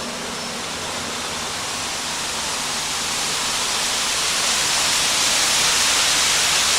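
Canal water pouring steadily into a waste culvert on the Delaware Canal, a broad continuous rushing hiss that grows slightly louder and stays unbroken throughout, with no voices.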